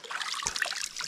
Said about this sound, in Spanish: Viene una quebradita de allá acá.